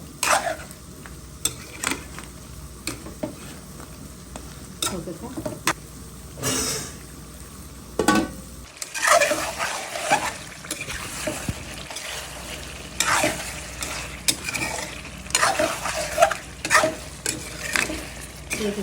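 Chicken and potatoes are sautéed in a pan, with close, loud scraping strokes of a spoon against metal over a continuous sizzle that grows denser and busier in the second half, no talking.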